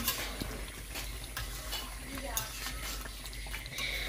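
Curry stirred in a pot over a wood-fired stove, with steady scraping and clinking of a utensil against the pot over a background of simmering and fire noise, a voice speaking in places.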